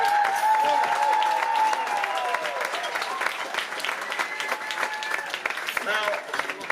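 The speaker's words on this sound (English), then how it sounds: "And ladies and gentlemen, would you give them a round of applause?" An audience on a cruise ship applauds the staff, a broad, sustained wash of clapping that fills the room, with a voice talking and a tone sounding over the top.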